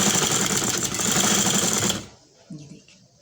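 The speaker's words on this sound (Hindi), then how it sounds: "अभी हम आपको सिलाई लगा कर भी दिखाते हैं" Sewing machine stitching lace onto fabric, running in a fast continuous whir for about two seconds before stopping abruptly, followed by a few soft handling sounds.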